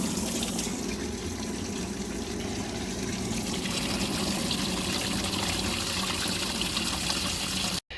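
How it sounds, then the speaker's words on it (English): Bait pump running steadily as it fills a kayak live well with water, a continuous close trickling, gushing wash of liquid that holds constant for several seconds before cutting off abruptly at the very end. "See, I'm filling a live well."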